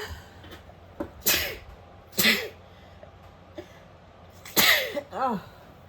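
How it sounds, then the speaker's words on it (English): A person sneezes several times in a quiet room while hand-stitching a boro cross-body bag, with sharp broadband bursts and a couple of softer throat sounds between them. "Oh, I think I'm gonna sneeze."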